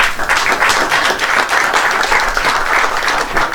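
A crowd at a cultural event in Mexico applauds with dense, sustained clapping that stays loud and even throughout, with no speech heard over it.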